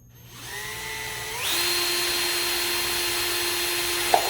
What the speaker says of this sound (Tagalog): Saka mabigat tong drill eh.